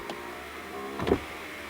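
The electric window of a Ford Mustang S550 hums steadily as it rises. Near the end it strains with a brief louder motor surge when a box blocks it and it reverses. It is heard close up, with no talking.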